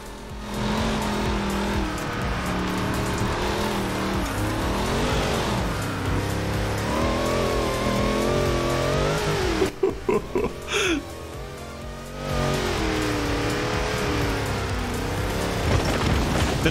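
A car engine in Forza Horizon 4 hums steadily with shifting revs and pitch bends, briefly dropping away for a few sharp tonal blips before the engine drone resumes.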